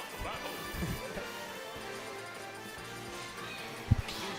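A forward smash attack lands in Super Smash Bros. Ultimate during a tournament match. A softer hit comes early, then one sharp, loud impact cracks out near the end over quiet game sounds.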